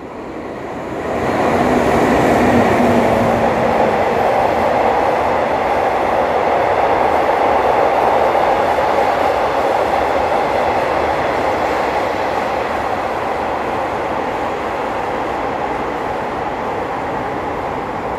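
A long-distance train rumbles steadily past a station at close range, its roar rising quickly and then holding with clattering wheels for many seconds, no voices.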